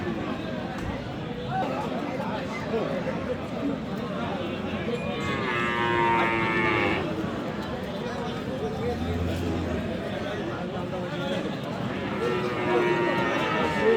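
Young cross and Friesian bull calves at a busy cattle market, with lowing rising briefly over a constant crowd murmur and nearby voices talking, all fairly distant and blended.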